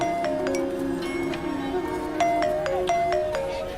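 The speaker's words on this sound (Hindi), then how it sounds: "सोनल का फोन आ रहा है।" A phone ringing with an incoming call, a repeating electronic ringtone of short tonal notes in a steady pattern, moderately loud indoors.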